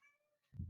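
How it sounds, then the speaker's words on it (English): A house cat gives a short, faint meow, followed at once by low muffled thumping and rustle close by. "So I have a cat."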